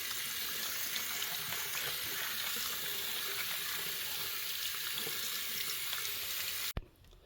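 Water runs steadily from a tap into a sink during cleaning of a push-down drain plug, a continuous close hiss that cuts off abruptly near the end with a brief clunk.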